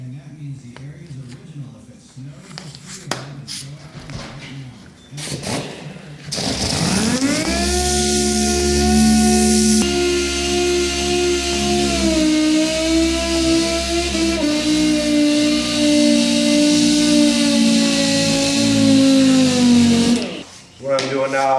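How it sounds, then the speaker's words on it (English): A DA sander fitted with 180 grit paper sands a car body panel, spinning up after some earlier clatter and holding a steady, loud whine for about fourteen seconds before winding down. "So I'm about to sand it right now with the 180. 180 on the DA."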